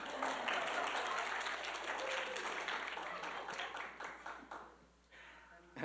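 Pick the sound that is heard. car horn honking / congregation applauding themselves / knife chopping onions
congregation applauding themselves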